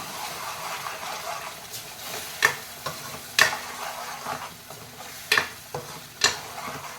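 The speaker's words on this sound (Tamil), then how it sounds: "நல்லா எண்ணெயிலே நல்லா இந்த மசாலாவை நல்லா மிக்ஸ் பண்ணி விட்டுக்கலாம்" Masala stirred and fried in oil for a tamarind curry with black-eyed peas and brinjal: a steady soft sizzle broken by several sharp spoon scrapes against the pan, close and alone.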